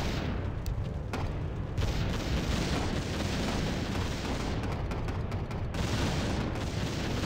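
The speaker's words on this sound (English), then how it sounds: "Now for the missiles. Or the rockets." Missiles or rockets exploding in a Warcraft 3 Reforged battle, a continuous dense roar of overlapping blasts and rumbling impacts with scattered sharp cracks, loud and sustained throughout.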